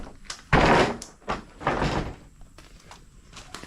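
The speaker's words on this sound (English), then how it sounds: "This door fell off." A Rubbermaid storage shed door, part of a budget deer-season shooting house build, falls off with two loud, close thuds and rattles about a second apart, then lighter knocks and clatter trail off.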